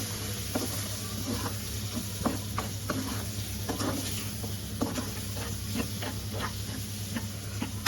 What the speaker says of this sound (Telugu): మటన్ కీమా, బాగా కలుపుకోవాలా.